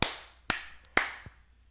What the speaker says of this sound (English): That one clap is for your one correct pick, Chris.